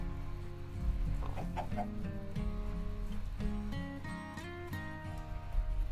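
Minecraft chickens cluck in a farm pen, short repeated bursts overlapping one another at a steady moderate level, some nearer and some farther off.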